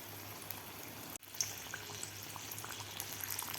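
Chilli bhaji deep frying in hot oil over a medium gas flame, a steady dense bubbling hiss with a brief sharp dip and crackle partway through.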